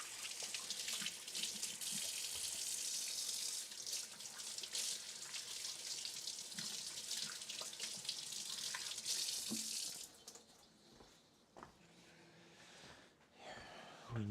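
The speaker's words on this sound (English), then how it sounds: "that's probably something that will require me to wash my hands." Tap water runs steadily into a kitchen sink during handwashing for about ten seconds, then stops, leaving faint handling clatter and small splashes.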